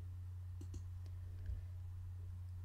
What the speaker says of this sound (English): Just a matter of clicking on that, dragging and dropping.